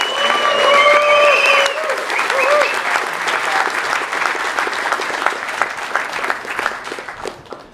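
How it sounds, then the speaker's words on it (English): An audience at a hackathon closing ceremony breaks into enthusiastic applause, opening with cheers and whoops over the clapping, then settling into steady dense clapping that slowly thins out and fades. "let's give everybody one more big round of applause"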